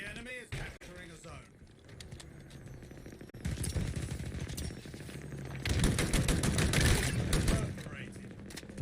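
Rocket launcher fire in Halo Infinite multiplayer: rapid bursts and explosions crowd the match, with sustained gunfire and blasts growing louder toward the end while chatter runs underneath.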